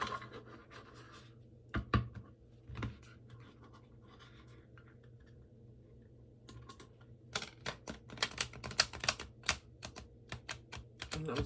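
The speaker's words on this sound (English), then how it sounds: "The cards are so thick, they just don't want to riffle." Thick, oversized Revival Art Tarot second-edition cards being shuffled, soft scattered riffling clicks and slides, sparse at first, then a quicker burst of flicks near the end, quiet and close.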